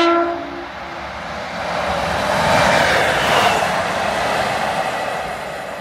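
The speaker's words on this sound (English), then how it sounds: "it was cute seeing that Class 153 passing through Pontyclun station on its own with no other carriages" A single-car Class 153 diesel train rumbles close past Pontyclun station, its roar swelling and then easing, with a brief horn note at the start and a steady rush of wheels throughout.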